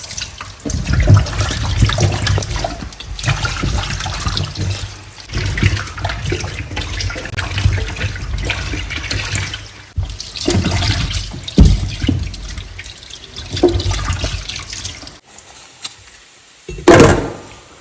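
Vegetables, including tomatoes and beetroot, washed under a running kitchen tap, with steady splashing water and handling clatter throughout, then a brief louder splash near the end.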